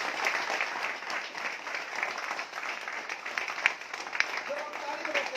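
Audience at a seminar applauding, a dense, continuous wash of many hands clapping throughout, moderately loud and steady, with a few sharper individual claps standing out.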